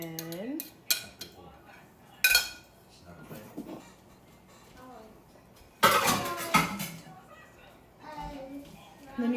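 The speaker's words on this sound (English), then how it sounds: "you're gonna put the lid on" A metal lid clanks onto a pressure cooker in a home kitchen while chicken and side dishes are being cooked, with two sharp, loud clatters between stretches of a person talking.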